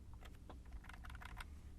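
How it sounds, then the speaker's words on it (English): Key presses on a computer keyboard during computer modeling work, as a quick run of light, close clicks and taps in a quiet room, with no talking. "I will hit C on my keyboard for circle and draw a circle here."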